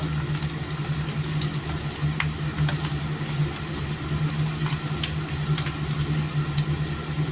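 Roast duck and pickled mustard greens stir-fry in a pan, giving a steady sizzle with scattered light clinks of a utensil against the pan.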